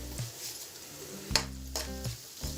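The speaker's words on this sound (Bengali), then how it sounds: "লবণটা দেওয়ার পর আবারও আমি সব কিছু নেড়ে নিচ্ছি" Taro and prawns frying in a pan while being stirred, with a soft, steady sizzle broken by several louder scraping strokes of the stirring utensil, close and without talk.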